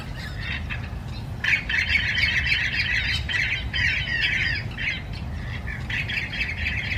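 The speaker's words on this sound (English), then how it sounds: "this morning we're listening to Orange-winged Parrots" Orange-winged Parrots on a Miami, Florida morning, a loud flock giving repeated harsh squawks over a steady low background hum.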